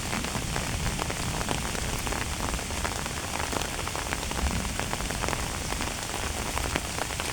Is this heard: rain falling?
yes